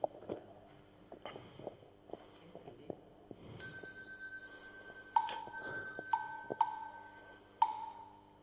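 Four bright bell dings struck at uneven intervals to begin Buddhist evening chanting, each ringing on briefly over soft background shuffling and clicks.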